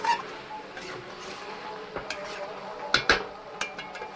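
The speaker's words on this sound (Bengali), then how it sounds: "আমি ঢাকনা খুলে নিচ্ছি।" A metal lid comes off a cooking pan of pui shaak charchori with prawns, giving a couple of sharp clanks around the three-second mark over a low simmering hiss, plus a few lighter knocks.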